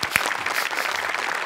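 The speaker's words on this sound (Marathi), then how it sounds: "एकदा जोरदार टाळ्या." A studio audience at a Marathi comedy show breaks into brief, loud, dense applause, steady claps filling the whole moment with no voices over it.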